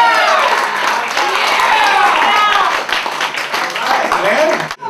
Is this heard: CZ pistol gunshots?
no